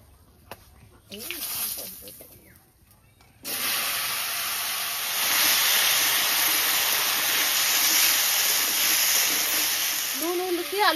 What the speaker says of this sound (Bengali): মাছ ভাজার তেলের মধ্যেই আলুগুলো দিয়ে দিচ্ছি।